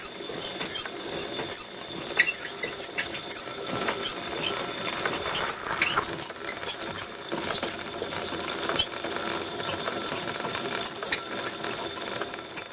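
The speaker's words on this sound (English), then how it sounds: "Now to start winding the bobbin, all I have to do is pull the wheel towards me to get the motion started a little bit, and then just start the treadle." A Singer VS2 treadle sewing machine winds a bobbin with a continuous light whirring and fine ticking that holds a steady, even pace throughout, heard up close.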